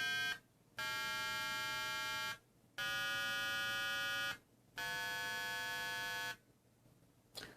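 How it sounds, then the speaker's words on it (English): A DM5 test device's audio tone generator cycles through its tones: four sustained buzzy, harmonic-rich tones of about one and a half seconds each, separated by short silent gaps, with a faint background hum and no talking. "this is just testing out all of the audio tones that it can produce."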